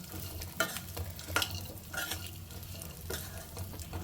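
Pumpkin seeds roast in a pan for dry fruit laddu, with soft dry rustling and a few spoon scrapes and taps repeating at a quiet, close level, and no talking.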